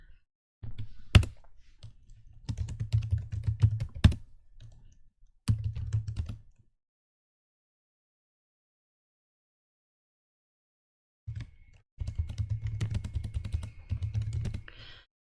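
Typing on a computer keyboard in a Linux terminal: bursts of close, clattery keystrokes with single hard key thumps, then a long silent gap before another run of steady typing.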